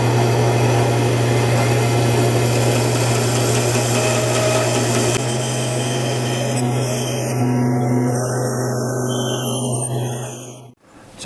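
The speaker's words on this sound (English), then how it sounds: "I'm now going to cut this out with the bandsaw and then refine it later." A bandsaw runs through a cut in a workshop, making the pieces for telescopic pannier struts, with a loud, steady motor whine and blade hum that fades as the machine winds down near the end.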